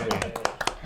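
A small group of people clapping, a short burst of close, brisk claps mixed with overlapping voices.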